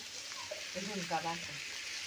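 Spices tempering in hot oil in a pan for Maharashtrian village-style pithla: a faint, steady sizzle heard close by, with a voice briefly sounding over it.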